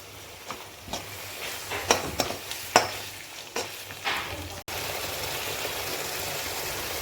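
Masala spices frying in oil in a pan for a potato-and-lentil dish, a steady sizzle broken by several sharp scraping stir strokes, then a continuous loud hiss once the oil starts to separate, close up with no talking.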